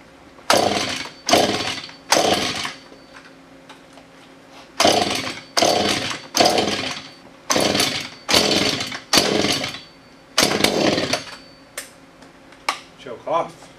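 Husqvarna 435 chainsaw being started on mixed fuel: a series of loud pull-cord rips in rhythmic bursts, roughly a dozen pulls with pauses, ending in short sputtering coughs as the engine tries to fire.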